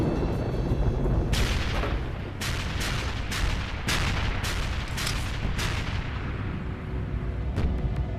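An artillery bombardment of Iwo Jima, a steady roar of guns with repeated heavy booms and blasts in rapid succession, loud and continuous with no voices.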